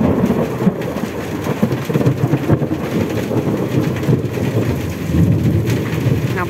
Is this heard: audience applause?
no